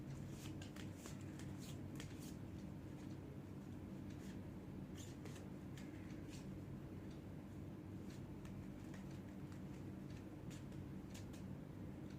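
Tarot cards being shuffled, a soft repeated riffling and flicking under a constant low rumbling background hum, fairly faint and continuous.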